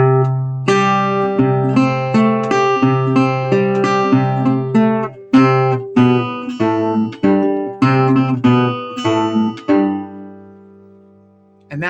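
A blues guitar sequence from the third line of a blues lesson, played alone on strings as a run of plucked, ringing notes and chords in a steady rhythm, closing on a sustained chord that fades out.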